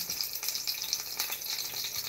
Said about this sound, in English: You can hear it bubbling and sizzling